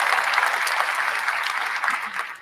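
Applause for a quiz winner during a live online event: steady, even clapping from a small audience that lasts the whole short stretch.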